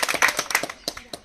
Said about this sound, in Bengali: সূর্য মণ্ডলকে দ্বিতীয় পুরস্কার দিলাম সবাই হাততালি